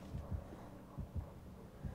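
A heartbeat thumps in Dead by Daylight, low and muffled, in paired beats that repeat steadily with nothing else over them.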